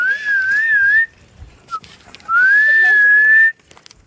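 A person gives two long, loud whistles with a gently wavering pitch, separated by a short pause, calling dogs across open ground.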